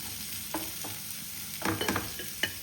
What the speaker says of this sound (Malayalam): നമുക്ക് പച്ചമുളകും സവാള ഇതിലിട്ട് കൊടുക്കാം. ഇതൊന്ന് വഴറ്റി കൊടുക്കണം.